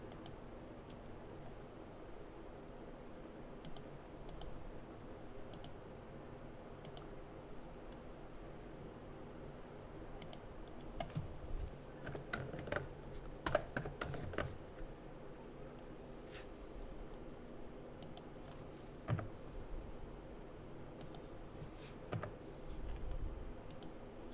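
Sparse, faint clicks of keys being typed on a computer keyboard while a date is entered, with a few louder taps clustered midway through, over a quiet room hum and no talking.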